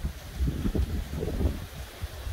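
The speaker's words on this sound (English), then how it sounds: "you can see the palm trees swaying in the wind" Wind blows through swaying palm trees at a house on Big Pine Key, Florida, before Elsa: a steady, fairly close rush with soft rustling and microphone buffeting, and no voices.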